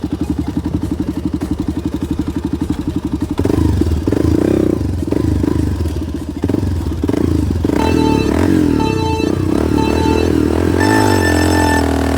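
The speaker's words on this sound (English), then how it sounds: "First up, we have to do a 0 to 60." A motorcycle running performance mods launches hard in a 0 to 60 run, a loud close idle giving way to a rising, roaring rev and accelerating engine note through the gears.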